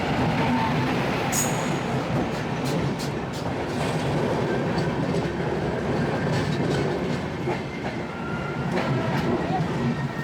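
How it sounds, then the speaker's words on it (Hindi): The Mumbai–Howrah Mail passenger train pulls out of Dadar station, with a continuous rumble and clickety-clack of wheels over the rails, heard from inside a coach, while someone speaks over it. "और अब ट्रेन का क्लियरेंस हो गया है तो ट्रेन अब चलने वाली है।"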